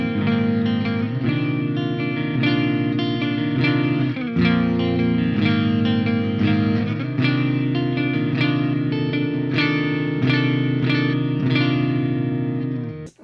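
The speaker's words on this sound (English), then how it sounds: "This amp and also the plugin has a really, really excellent clean section." Electric guitar through an Audio Assault Bulldog amp plugin on its clean channel, with the middle up and the bright switch on, playing steady rhythmic chords with clear picked attacks and a spacious, chorus-like sheen, loud and alone.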